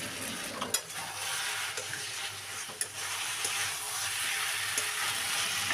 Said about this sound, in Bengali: নেড়ে চেড়ে নিয়ে নামিয়ে নেব।